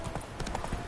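Quick soft hoof clops as the horse Roach trots in the fantasy video game The Witcher 3, a few close beats in a brief moment over a light game background.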